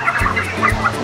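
Live chickens at a market poultry shop, heard as a brief, fairly loud burst of clucking and squawking fowl calls close by, with no talking.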